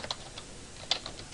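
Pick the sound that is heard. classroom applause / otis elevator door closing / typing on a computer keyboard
typing on a computer keyboard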